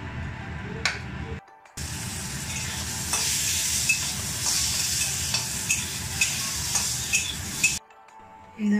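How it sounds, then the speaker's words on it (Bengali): Potatoes fry in hot oil in a pan for an eggplant dish, a close, steady sizzle with repeated scraping and clinks from stirring. Short silent gaps break it near the start and end, and nobody talks. "আলুগুলোকেও ভেজে নেব"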